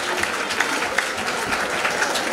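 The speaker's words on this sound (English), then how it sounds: "Let's clap them." Parents of grade 7 and 8 pupils receive steady applause from an audience at a junior school concert, dense clapping throughout with no voices.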